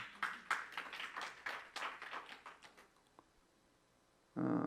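Distinct claps from a church congregation at a Sunday afternoon service, about a dozen in an uneven rhythm, then the room goes quiet before a voice starts up.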